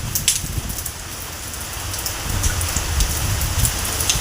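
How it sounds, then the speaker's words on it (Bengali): Continuous rain beats down outside a house, a full close hiss of falling drops that swells slightly toward the end, no one speaking. "অবিরাম বৃষ্টিতে"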